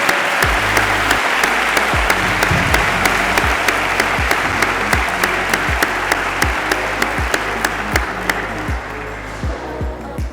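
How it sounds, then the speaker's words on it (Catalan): A large audience at a youth science awards ceremony in Vila-real gives sustained, dense applause for participants, volunteers and staff, with a few louder claps standing out near the front as it fades slightly toward the end. "Demane un fort aplaudiment per a tots i totes, participants, voluntaris i personal del centre."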